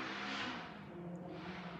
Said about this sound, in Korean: 오토바이 소리가 막 진하게 났네요.